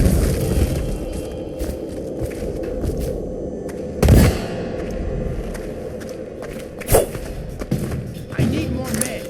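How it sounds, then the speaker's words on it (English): Explosions in Dishonored: The Knife of Dunwall, several sharp, loud blasts standing out among background clatter, thuds and game voices, with the strongest bursts spaced a few seconds apart. "Explosion!"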